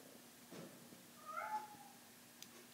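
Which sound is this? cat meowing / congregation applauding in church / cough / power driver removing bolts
cat meowing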